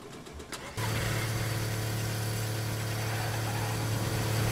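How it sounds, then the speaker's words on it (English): A car engine in the video game DayZ kicks in abruptly and settles into a steady, loud droning idle with a low hum, no voices. "My car's making noise."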